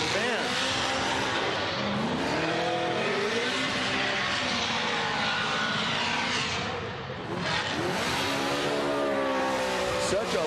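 A Formula Drift car qualifying at Road Atlanta revs hard, going off and on the throttle in rising and falling engine wails, loud and continuous over crowd noise and commentary.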